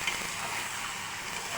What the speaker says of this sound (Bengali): মাছগুলো দিয়ে এখন ভালোভাবে কষিয়ে নেব